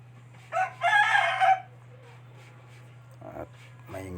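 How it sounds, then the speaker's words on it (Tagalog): A rooster crows once, loud and close, a long drawn-out call followed by quieter background sounds and a steady low hum. "At maingay pa yung manok,"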